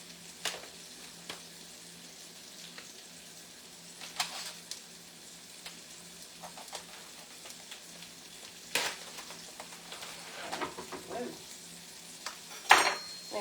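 Floured sirloin round steak tip browns in a pan with a soft, continuous sizzle. Occasional scrapes, clinks and taps of a utensil against the pan punctuate it. The sound is fairly quiet and there is no talk.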